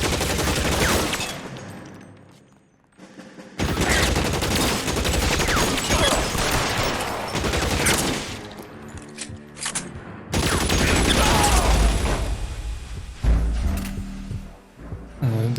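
Video game gunfight in L.A. Noire with dense bursts of gunfire and rapid machine-gun shots, loud and sustained, broken by short lulls between heavy volleys.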